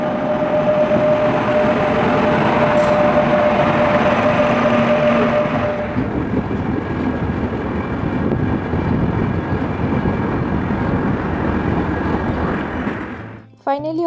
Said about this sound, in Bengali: মালগাড়ি নামছে পাহাড় থেকে